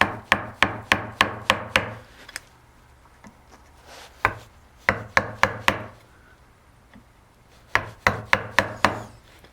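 Gentle mallet taps drive a 1/2-inch chisel into wood, coming as sharp close knocks in quick bursts of about six to eight strikes, separated by short quiet pauses.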